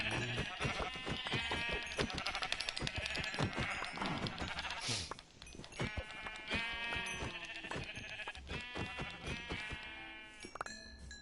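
Many sheep bleat in a video game, with overlapping, insistent cries layered densely over one another for the whole stretch, loud and continuous.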